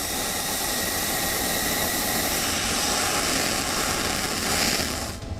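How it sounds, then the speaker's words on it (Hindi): Israeli Air Force fighter jets take off loaded with bombs, a loud, steady roar of jet engines that holds for several seconds before easing off at the end, with no voices. "हर विमान को बहुत कम वक्त में बमों से लैस किया जा रहा है और वो गाजा पट्टी की तरफ उड़ान भर रहे"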